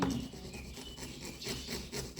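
Steady rasping strokes of a hand saw cutting along a marked line, repeating in an even back-and-forth rhythm, close by with no talking.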